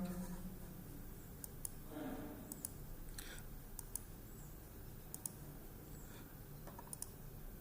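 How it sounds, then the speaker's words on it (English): Sparse clicks of students typing on computer keyboards in a classroom, scattered irregular keystrokes over a quiet room background. "most of the students they are typing"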